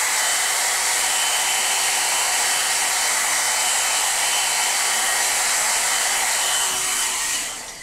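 Hair dryer blowing steadily on a watercolor painting, a loud, continuous close-up airy roar that holds for several seconds before tapering off at the end.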